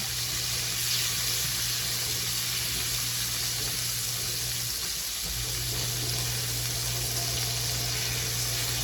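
Oysters browning in a frying pan for Southern fried oysters give a steady, continuous sizzle with a low hum underneath, close and even throughout with no talking.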